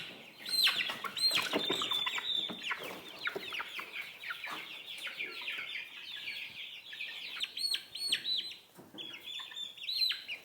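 Chickens on an off-grid woodland homestead cluck and squawk close by in a busy flock, with rapid overlapping calls, sharp bursts and a few wing flaps over about ten seconds.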